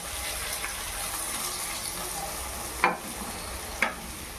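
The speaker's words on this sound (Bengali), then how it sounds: "বেশ কিছুক্ষণ নেড়ে চেড়ে ভেজে নেওয়ার পর এবারে দিয়ে দেব জল।" Water pours into a pan of frying raw banana and potato, a steady sizzle running throughout with two sharp stirring scrapes near the end, close and moderately loud, with no talking.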